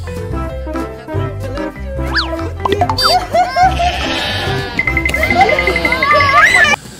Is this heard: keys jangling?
no